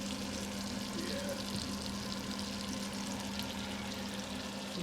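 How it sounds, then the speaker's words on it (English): Butter and oil heat in a frying pan with a steady, faint sizzle, an even hiss that holds unbroken throughout. "So we'll just wait for the butter and oil to heat up."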